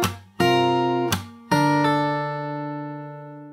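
Fingerstyle guitar plays the fourth part of a song's chorus as a handful of plucked notes and chords, the last one ringing out and fading alone.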